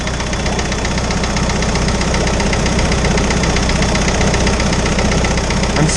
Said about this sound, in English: really clackety. Especially the indirect injection motors, for whatever reason. They're just really noisy.